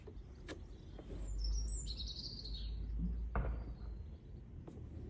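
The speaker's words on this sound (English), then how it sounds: "there's loads of birds up there" Birds chirp and sing outdoors on a pleasant day, a few thin high calls drifting over a constant low rumble of wind or distant traffic.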